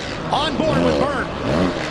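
A 450cc supercross motorcycle engine revs up and down over a jump at a stadium race, with loud sweeping pitch rises and falls layered over crowd noise and an announcer's voice.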